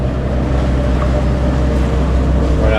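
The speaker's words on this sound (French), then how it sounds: "on a été obligé de démarrer le moteur" A sailboat's inboard engine runs at sea in calm conditions with light wind, a loud, steady low rumble and drone with some wind and water wash mixed in, continuous throughout with no talking.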